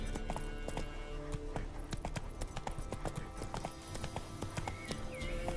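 The horse Roach gallops in The Witcher 3, with fast, continuous hoofbeats close by and a steady rhythmic clatter that runs through the whole stretch, plus a short whinny-like sound near the end.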